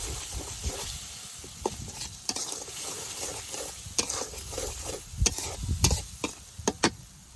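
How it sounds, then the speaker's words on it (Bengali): Meat with turmeric, chili powder and salt being stirred and fried in a pan in a village kitchen, a steady sizzle broken by repeated scraping clinks of the spoon against the pan, close and fairly loud. "মশলাটারে খুব ভালোভাবে কষিয়ে নেই।"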